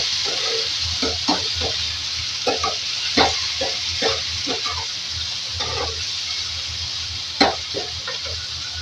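Chopped tomato and green chili being stirred into fried onions in a hot pan, a continuous sizzle broken by repeated scraping stir strokes at an uneven rhythm, close and fairly quiet, with no talking.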